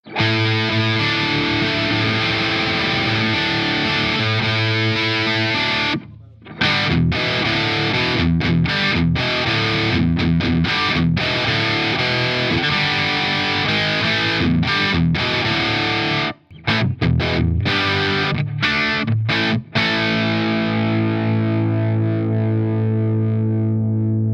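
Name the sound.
electric guitar through TWS Uwe Lulis amp, JTM mode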